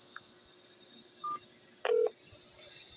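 Telephone keypad tones on an office voicemail menu: two short dual-tone beeps, the second longer and louder, over a faint steady hum on the line.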